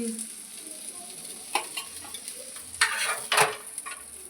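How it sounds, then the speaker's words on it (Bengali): Oil sizzles continuously around frying fish, with several louder spatters and scraping turns of a spatula against the pan. "একটু ভালো করে ভেজে দিচ্ছি"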